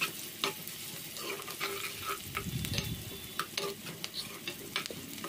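Onion frying in oil for dondakaya (ivy gourd) curry, a steady close sizzle with repeated sharp scrapes and clicks of a spoon stirring the pan throughout, no voices.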